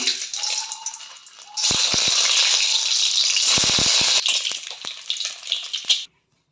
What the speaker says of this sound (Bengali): কড়া গরম হয়ে গেছে, আমি এখানে তেল দিয়ে দিচ্ছি। ডিমগুলো ভেজে নেব।